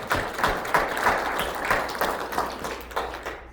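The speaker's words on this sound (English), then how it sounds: "please give yourselves a hand for making it today too" A conference audience at a digital transformation talk claps for themselves, a dense patter of hand claps with several swells, fading out at the very end.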